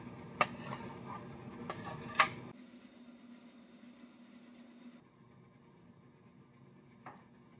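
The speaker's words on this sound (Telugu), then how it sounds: "ఈ విడిగా స్టెయిన్ చేసుకున్న సొరకాయ ముక్కలు అయితే ఉన్నాయి కదా దాన్ని మిక్సీ పట్టుకుంటున్నాను" A kitchen mixer grinder whirs steadily, grinding boiled bottle gourd pieces, with a couple of sharp clunks at the start before the motor drone settles and then drops to a quieter hum.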